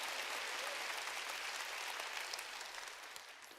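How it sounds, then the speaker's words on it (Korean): A congregation applauds during a church sermon, a steady spread of many hands clapping at moderate distance that slowly thins toward the end, with no talking. "하나님이 100배 열매를 맺게 해줄 걸 믿으면 박수."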